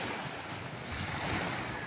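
Pacific Ocean surf, a steady broadband wash of waves with wind buffeting the microphone, continuous and fairly close, no voices.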